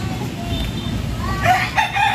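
A five-month-old native rooster on a poultry farm crows loudly and close by, and other chickens cluck around it.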